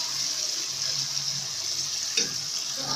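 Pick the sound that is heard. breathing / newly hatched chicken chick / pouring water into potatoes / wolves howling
pouring water into potatoes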